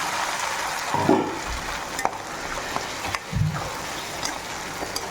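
Onions and ground tomato sautéing in a pan for chicken liver curry: a low, even sizzle with a few close scraping stirs and a couple of sharp spoon knocks against the pan, with no voices.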